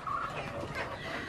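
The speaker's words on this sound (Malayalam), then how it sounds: "സൈഡിൽ നമ്മുടെ കോഴിക്കൂടാണ്" Chickens cluck in a backyard coop, a few short throaty calls close by over low ambient noise, with no one talking.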